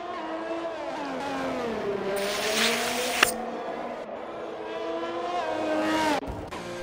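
Racing cars lap the Monaco street circuit in a video game, engines droning and shifting pitch as they accelerate and brake, a steady near whine with a brief sharper burst of tyre or gear noise.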